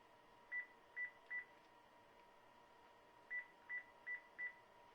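A telephone keypad dials, sending two quick bursts of short electronic tones, three then four, faint against a steady low hum with no ringing evident.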